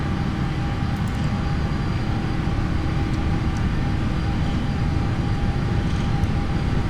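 PMDG 777 jet engines spooled to takeoff thrust in a flight simulator, a steady, loud, broadband roar that holds constant throughout with no gaps.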